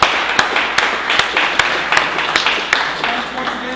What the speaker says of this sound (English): Everyone, please give all of our presenters a round of applause.